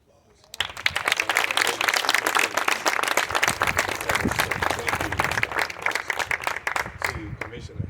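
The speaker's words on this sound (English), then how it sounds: "I think we all should give a round of applause" Applause from the audience at an early learning center groundbreaking ceremony starts abruptly and stays loud and dense, with cheering voices mixed in before it begins to thin toward the end.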